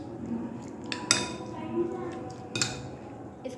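A spoon clinks against a bowl while chicken marinade with a pinch of food colouring is mixed, a few sharp metallic taps over soft scraping in a quiet kitchen.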